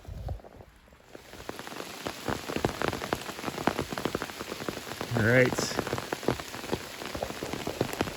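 Steady rain patters on an umbrella during a hike, a dense continuous drumming of close drops throughout, with a brief spoken remark and a short voiced sound partway through.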